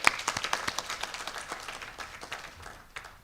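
Audience clapping at a Human Rights Day event in a hall, a burst of distinct claps at first that thins and fades, fairly quiet and distant.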